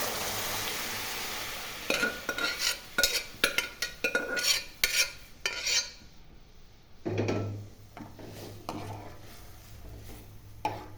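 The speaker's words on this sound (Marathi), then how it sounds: "तर आपण मटकी ॲड करूया. पाण्यासकट करायची का." Moth beans with their soaking water tipped into a pan and stirred for a lentil curry, giving a sizzling splash and steady scraping of a spoon against the pan, with clinks and bursts of stirring throughout and no speech.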